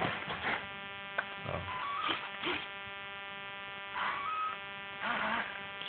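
A small servo on a homemade foam J3 Piper model plane drives the elevator control surface, giving faint, whiny electric buzzes in short bursts as it swings full up and down, close by and alone.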